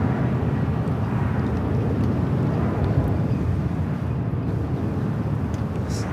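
Boeing 757 sports charter jet departing LAX for Phoenix, a steady loud broadband engine roar with no breaks, rumbling low and constant throughout.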